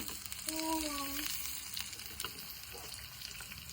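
Onion with red chili pieces and curry leaves frying in hot oil for a Maharashtrian rassa bhaji, giving a steady soft sizzle throughout. A faint tonal whistle sounds briefly near the start.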